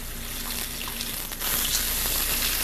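Salmon fillet frying in a pan just after being flipped, a steady hissing sizzle that swells louder partway through, with no talking.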